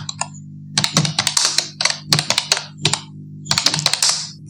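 Irregular bursts of computer keyboard typing while an address is entered, close and clear, with short pauses between quick runs of keystrokes over a steady low hum.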